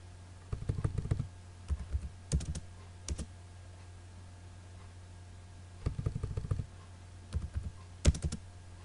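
Computer keyboard typed in bursts while entering AutoCAD Mechanical 2017 commands for an isometric drawing, with quick clusters of close clicks separated by pauses over a steady low hum.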